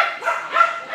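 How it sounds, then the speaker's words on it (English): A Rottweiler gives a short, close whining bark, a single tonal yelp lasting about a second. "It's a Rottweiler."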